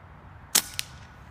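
A single sharp crack from an AEA HP Carbine .25 Assassin air rifle fired on low remaining pressure, followed by a quick fainter metallic snap, close and loud against a quiet background.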